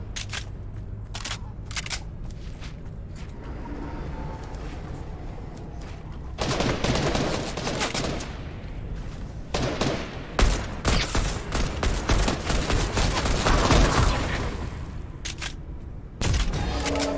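Rapid bursts of gunfire from the video game Fortnite, with repeated shots and loud, dense volleys building through the middle and clustering toward the end, heard without speech.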